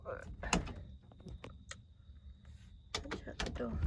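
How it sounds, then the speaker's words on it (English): A door opens at night, with a few knocks, clicks and scrapes of handle and frame spread across the moment, fairly close, among light handling noise. "Open the door."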